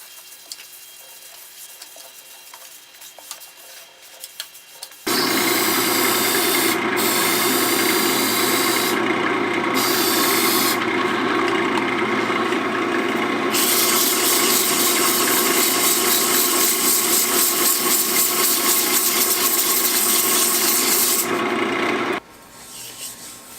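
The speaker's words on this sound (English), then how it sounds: "I'm going to do the same thing as I did on the other side, power sand it" A power sander works a wooden maple and oak platter, starting after a quiet stretch with a loud, steady motor whir and rough abrasive rubbing that shifts in tone as pressure changes, then stops near the end.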